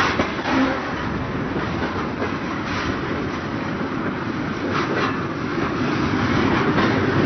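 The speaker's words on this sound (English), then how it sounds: "Pulling the train southbound is an E8A," A southbound train is hauled by Seaboard Coast Line E8A locomotive 594 in Fort Lauderdale in 1970, producing a continuous close rumble with rhythmic clickety-clack of wheels over rail joints.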